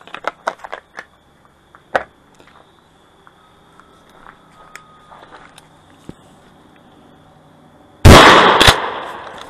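A 12 gauge shotgun firing Federal Premium Flight Control home defense buckshot, one very loud close blast near the end with a ringing decay, after scattered handling clicks and footsteps.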